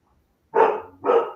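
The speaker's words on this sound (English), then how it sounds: "I don't know if you guys can hear my dog barking super loud in the background." A dog barks loudly in the background indoors, two strong barks in quick succession with a brief gap between them and no talk over them.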